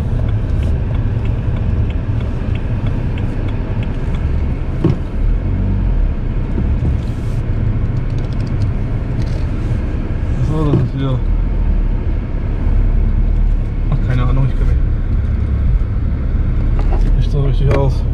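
Car driving slowly around the parking lot of the Wertheim Village shopping centre, giving a loud, steady interior engine and road rumble throughout while people talk over it.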